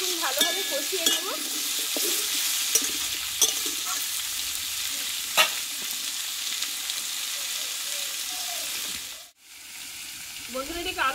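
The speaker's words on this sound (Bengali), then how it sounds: "এই আলু পেঁপেটা আমি কিছুক্ষণ ভালোভাবে কষিয়ে নেব।" Potato and papaya sizzle and fry steadily in a hot pan, a continuous crackling hiss with occasional stirring scrapes, close and alone, briefly dropping out near the end.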